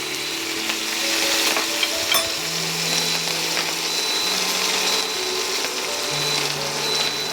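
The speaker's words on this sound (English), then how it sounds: "put our ham in there. We can fry those down." Ham and kale frying in a pan, a steady close sizzle and crackle with occasional stirring scrapes, no voices.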